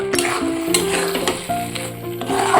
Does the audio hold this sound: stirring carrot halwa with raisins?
yes